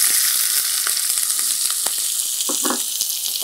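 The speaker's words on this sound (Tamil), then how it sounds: "அந்த டைமில் நம்ம கட் பண்ணி வச்சுக்க இந்த வெங்காயத்தை போடுறோம்." Chopped onions dropped into hot oil with fennel seeds, a loud, dense, even sizzle filling the whole stretch, with occasional sharper crackles and spoon scrapes, close and unbroken by speech.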